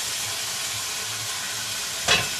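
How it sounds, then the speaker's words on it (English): Chicken sizzles steadily in a frying pan, a constant bright hiss with a brief louder burst near the end and no talking. "You can hear it sizzling."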